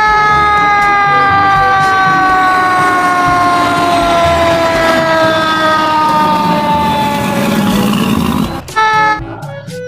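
A toy fire truck's siren wails loudly and continuously for several seconds, thin and electronic, then cuts off with a few clicks.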